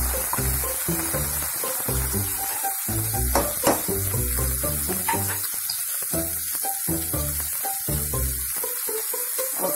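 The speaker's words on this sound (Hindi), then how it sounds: "ये प्याज हमारे लाल हो गए हैं तो अब हम इसे ये मटर डाल देंगे।" Boiled peas tumble into a pan of browned onions, setting off a steady, close sizzle of frying that runs under rhythmic background music throughout.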